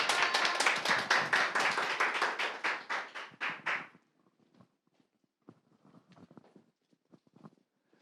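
A crowd at a youth and student rally marking the anniversary of the September Pyongyang Joint Declaration claps loudly for about four seconds in dense, pulsing bursts. Then it stops abruptly, leaving only a few faint scattered taps and rustles.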